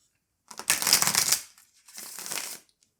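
Tarot cards shuffled by hand in two bursts, a longer riffling flurry followed by a shorter one, crisp papery rustling close up with no talking.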